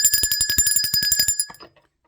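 A small bell rings in a rapid series of about a dozen bright metallic strikes, loud and close, then quickly fades into silence.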